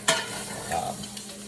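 Steak searing in a very hot pan, a brief close sizzle with a soft stirring scrape, quiet and short.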